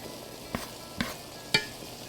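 Ground meat browns in a pan under a soft, steady sizzle, with three evenly spaced scraping stirs of a spoon cutting through it.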